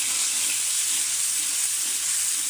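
Ground spice paste sizzles in hot soybean oil alongside tilapia pieces in a rural kitchen, a dense, continuous hiss at moderate loudness with no talking.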